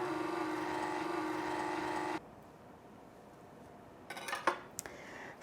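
A stand mixer beating cupcake batter for vanilla Oreo cupcakes hums with a steady motor whine for about two seconds, then cuts off, followed by a few light clinks and knocks.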